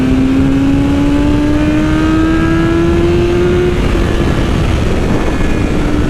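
A 2020 BMW S1000RR M sport motorcycle with a flashed ECU accelerating hard, its engine note climbing steadily in pitch as it revs up, loud, close and continuous with no talking.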